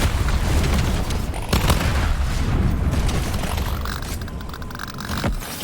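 High explosive grenades go off in Deep Rock Galactic, producing heavy booming blasts and rumbling debris over constant loud combat noise, with a few sharp pops and a sudden thump close by.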